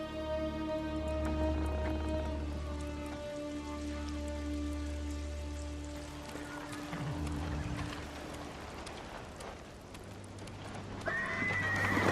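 A horse whinnies and hooves clop in the video game Ghost of Tsushima, over a steady bed of rain and layered music, with a brief bright rustle near the end.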